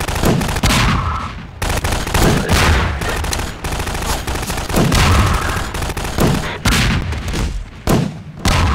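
Rapid bursts of gunfire in the video game Half-Life 2, loud and close, with repeated sharp shots and booming impacts in clusters throughout, one after another with brief gaps.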